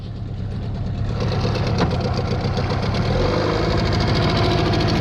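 A boat outboard motor idles steadily and close by, a continuous low rumble with a faint rhythmic knock running through it.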